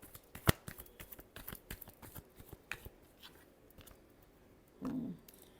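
Tarot cards being shuffled by hand give a run of crisp, rapid papery clicks and flutters, close and fairly quiet, ending in a short denser riffle near the end, with no talking.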